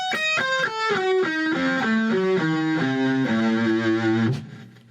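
Distorted electric guitar running a diminished scale pattern as a clean descending sequence of single notes, loud and close, ending on a sustained note that fades out.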